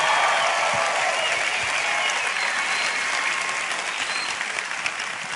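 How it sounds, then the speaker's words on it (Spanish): A congregation at a Saturday church meeting claps for someone, a thick, continuous roar of applause that holds steady and loud throughout, tapering slightly near the end. "Come on, give him a hand clap."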